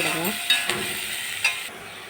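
Onions with salt sautéing in a pan for a chayote stir-fry, a steady close sizzle with a few light scraping stirs of the spatula against the pan.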